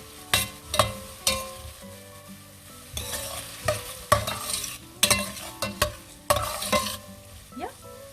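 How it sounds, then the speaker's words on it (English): Onions for karela sabzi sauté in a pan under repeated spoon strokes, each scrape and knock landing in bursts over a soft sizzle, close and irregular, with no talking. "So let's give it a good stir."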